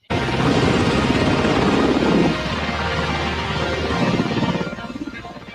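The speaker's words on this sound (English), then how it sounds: "I've never seen a helicopter do that by itself." An autonomous Black Hawk helicopter with no pilot roars close by with a dense, steady rotor rumble that eases slightly after a couple of seconds and then holds, no voices.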